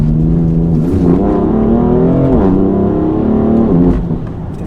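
A 431 hp BMW M4 F82 engine pulling hard out of a corner, a loud, close, continuous roar whose pitch climbs and wavers through the acceleration before easing off near the end.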